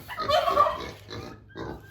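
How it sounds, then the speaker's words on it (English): A pig grunts and oinks in the background, loud and close for the first second, then again more softly near the end, with no one talking. "Now what you hear in the background is Pig Trudy"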